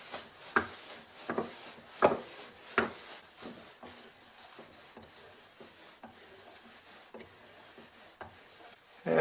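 A wooden skew rebate plane blade is stropped in a run of rhythmic rubbing, rasping strokes, several sharp passes early and then softer, steadier strokes, close up with no talking.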